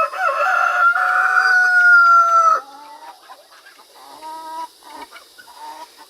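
A rooster crows loudly and close by in one long drawn-out call, followed by quieter clucking and short calls from a group of chickens.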